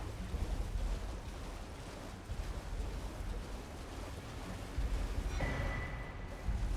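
A waterfall in Elden Ring Shadow of the Erdtree pours in a steady, broad rushing roar that stays constant throughout, with a faint brief tone rising late.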